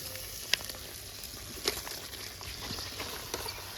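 Washed village chicken meat drops into spice paste ground on a grinding stone and frying in a pan, giving a steady crackling sizzle with a few sharp pops and spatters, close by and with no talk.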